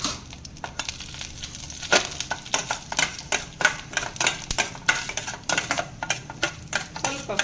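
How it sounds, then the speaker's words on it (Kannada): Urad dal frying lightly in a pan, giving a dense run of close, crisp crackles and small pops with irregular sharp ticks throughout, fairly quiet and steady with no voices. "ಉದ್ದಿನಬೇಳೆ, ಸ್ವಲ್ಪ ಫ್ರೈ ಆಗಿ"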